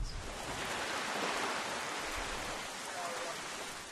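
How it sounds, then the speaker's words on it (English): Steady rain from The Legend of Zelda: The Wind Waker video game, a dense, even hiss of falling water that holds constant throughout with no talking over it. "I'm making him stand here in the rain."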